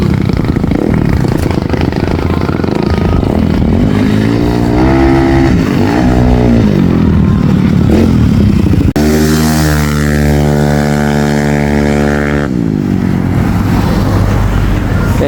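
A Yamaha Mio MX scooter engine with a 4-valve head roars nearby during a test, its pitch climbing and falling through several loud revs, then settling into a sustained high drone before dropping back.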